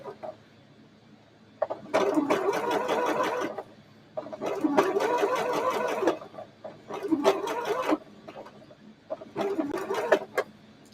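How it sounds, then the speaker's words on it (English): A sewing machine stitches a dart on a shirt in four close, loud bursts of rapid, even needle clatter, each lasting one to two seconds with brief quiet pauses between runs. "I'm just gonna sew it right onto it"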